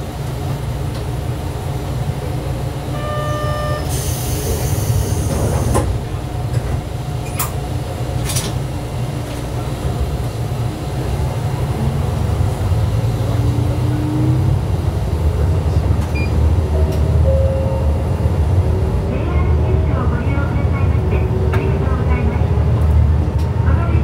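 Steady rumble of a single-car train on Japan's Hōhi Line rolling on rails, continuous and close, with a brief high chime and faint announcement tones partway through.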